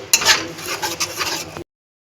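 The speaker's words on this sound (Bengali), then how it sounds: "মশলার মধ্যেই পরিমাণ মতো নুন দিয়ে দিচ্ছি ও ভালো করে কষিয়ে নিচ্ছি মশলাটা" Spice paste with tomato and salt being stirred and fried in a pan, a dense scraping and sizzling texture with clattering strokes for about a second and a half, then abrupt silence.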